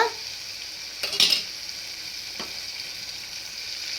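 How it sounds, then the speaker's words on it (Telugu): Yogurt fries in a pan for veg biryani with a steady, close sizzling hiss and a couple of soft stirring scrapes partway through. "ఇప్పుడు పెరుగు కొంచెం వేగింది కదా"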